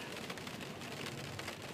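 Steady rain falls in California, a dense, even hiss of drops drumming on a surface, with faint low rumble beneath and no voices.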